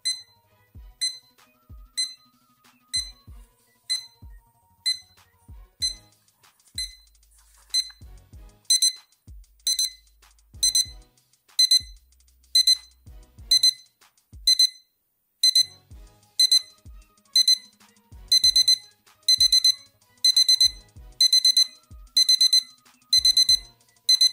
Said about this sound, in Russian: Звук будильника, честно говоря, не раздражает и приятный